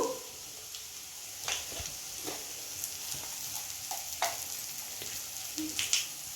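Spices fry in hot oil for a homemade Indian snack mixture. A steady, soft sizzle runs throughout, broken by occasional scraping stirs and light clinks close by.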